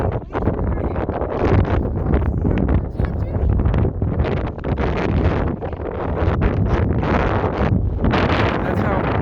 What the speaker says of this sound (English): That's how windy it is right now.